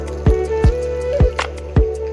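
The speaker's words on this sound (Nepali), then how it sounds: "यहाँ नि एकनास झर्ने रहेछ यो पानी" Water from a mountain spring spout dripping and plopping steadily into a pool, four or five evenly spaced drops up close, each a short hollow splash over a faint background hum.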